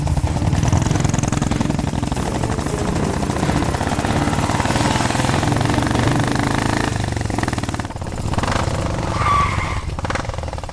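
Motorbike engine running loud and continuous, a revving rumble that fills the whole stretch, with no speech over it.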